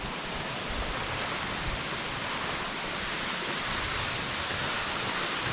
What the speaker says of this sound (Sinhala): ලංකාවේ උසම දියඇල්ල.